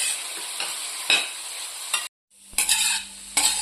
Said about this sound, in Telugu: మొత్తము మీడియం ఫ్లేమ్ మీద పెట్టి ఫ్రై చేసుకోండి